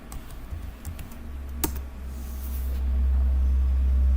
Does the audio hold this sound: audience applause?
no